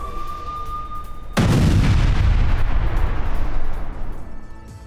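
Russian army artillery fires a single sudden heavy blast that follows a faint tone, then rolls into a long, loud rumbling decay.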